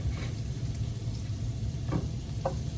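Waffles sizzle and fry in melted butter in several pans, a steady close crackle with a few faint clinks of utensils.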